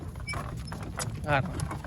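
A working mare's hooves clip-clopping at close range on a hard surface, a few uneven steps under a voice and background noise.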